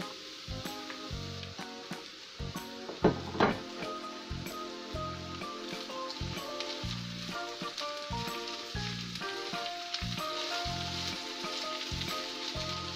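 Chicken sizzles in a pan with onion and garlic, giving a continuous crackling fry broken by rhythmic scraping bursts of stirring and a louder hiss flare early on, close by, with no talking.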